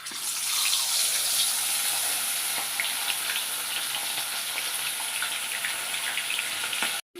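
Fish coated in turmeric and salt fries in hot oil with a loud, steady sizzle and crackle that carries on throughout, then cuts off abruptly near the end.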